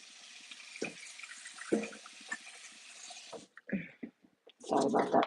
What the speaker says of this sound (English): Had to run it a little bit for the fudge to get it off my whisk.